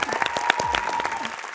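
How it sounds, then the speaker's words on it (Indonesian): Applause and crowd noise from a studio audience at a grand final show, with sharp claps near the front and voices mixed in over the brief burst. "Berikan tepuk tangan dong."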